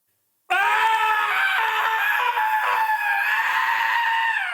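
A long, shrill alien creature scream built from a human voice, layered and processed into a harsh, wavering tone that bursts in after brief silence and holds loud and steady for about four seconds.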